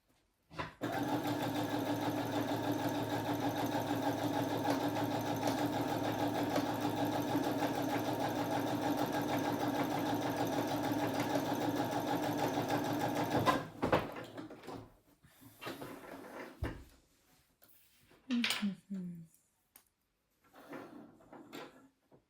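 A sewing machine runs in one long steady burst, stitching a straight seam on a Peter Pan blouse, then stops, leaving fabric rustles and light handling clicks.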